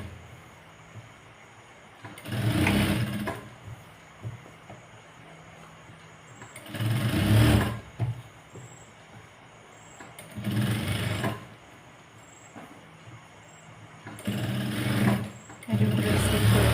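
Sewing machine stitching along a fabric edge in four separate bursts of rapid whirring, each a few seconds long, close and fairly loud, with quiet gaps between them.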